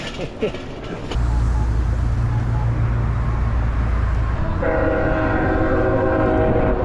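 A train rumbles by in Pittsburgh with a loud, steady low roar and a sustained horn-like tone joining near the end, with a voice briefly audible at the start.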